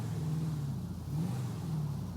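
A car driven around in GTA V with its suspension raised, a low steady engine drone with a slight rise and fall in pitch, quiet and even, no voices.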